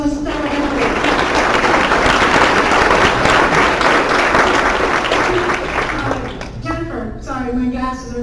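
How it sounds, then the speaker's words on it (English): Workshop audience giving a loud, sustained round of applause for a participant at a nonprofit fundraising session, dense clapping for about six seconds before it tapers off and a voice begins speaking. "we're going to give you a round of applause because that was a stellar effort"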